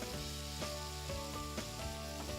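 Bacon-wrapped albacore tuna sears over a wood fire on a grill, giving a continuous soft sizzle with occasional small pops and a low hum underneath, with no voices.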